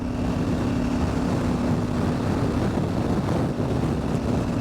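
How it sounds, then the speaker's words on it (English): Strong wind buffets the microphone outdoors beside a KTM 790 Adventure motorcycle with a constant low roar and rumble, steady throughout with no voices. "It is so windy."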